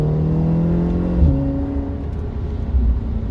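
An Audi S3 with an Integrated Engineering Stage 2 downpipe runs nearby with a steady, throaty engine drone, its pitch dipping once partway through before settling to an even hum.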